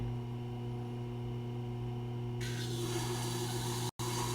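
A powered grinder works along the heel of an old junk knife, its steady humming drone joined halfway through by a harsher, louder grinding rasp that continues to the end, broken by a very short cut-out.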